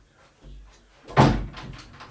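A door slams shut in the video game Piggy: one loud, sharp bang with a short rumbling tail, preceded by a soft muffled thud, with no voices.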